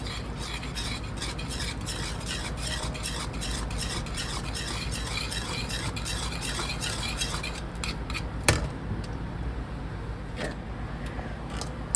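Cheese sauce for Southern mac and cheese stirred in a pot: a steady scraping swish runs throughout, up close and alone, with one sharp clink of a utensil near the end.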